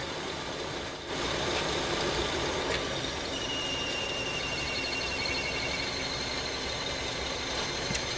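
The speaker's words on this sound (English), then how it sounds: "It came back because the AC clutch is disengaged from the pump." Accessory drive belt noise from a running car engine with the AC clutch disengaged, a steady engine drone with a faint thin squeal rising above it partway through, no talking.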